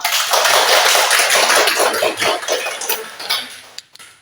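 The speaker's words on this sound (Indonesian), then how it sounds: "sekali lagi kita memberikan aplaus kepada Ibu dan kita semua" A school audience claps a dense burst of applause that is loud at first, then thins to scattered claps and fades out within a few seconds.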